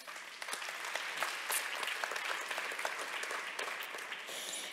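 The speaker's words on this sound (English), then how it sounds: "A round of applause, please." An audience at an interview event claps, a fairly quiet but sustained patter of applause that continues steadily without speech.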